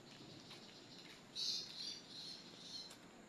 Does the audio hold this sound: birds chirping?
yes